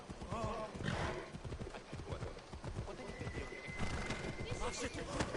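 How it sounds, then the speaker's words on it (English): Horse in the video game Assassin's Creed Odyssey, with rapid hooves clip-clopping at a gallop and a neighing whinny, mixed with game sounds and overlapping speech throughout. "Hurry up, horse."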